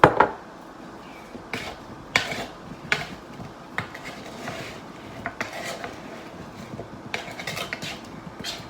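Metal utensil scraping and clanking in a pan as seasoned potatoes and hot dogs coated in olive oil are stirred over a campfire, with irregular clinks and taps over a steady background hiss.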